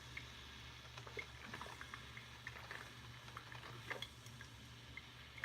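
A light stir of a vanilla coffee drink, with faint, soft liquid swishing and small clinks repeating at an even pace, quiet and close, without any talking.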